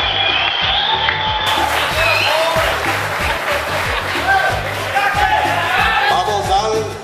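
A crowd at fishing tournament awards in Pilar, Paraguay, claps steadily through the whole stretch while an announcer's amplified voice and some crowd chatter carry over the applause.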